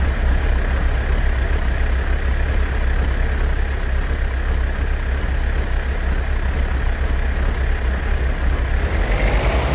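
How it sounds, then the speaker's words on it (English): A vehicle engine idles with its exhaust rumbling in the hunting video game Way of the Hunter, a steady, loud, low drone that holds unchanged throughout, with no talk. "So you have idle sound of the exhaust, sound of the engine is more hearable as you rotate the camera."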